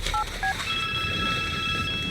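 A telephone keypad dials a number with a few quick, distinct beeps, followed by a longer steady tone, close and clear over faint background noise.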